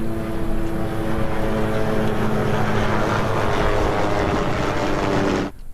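A constant loud engine drone with a low rhythmic beat holds steady throughout, then cuts off abruptly at the end, like a low-passing helicopter flying over jungle.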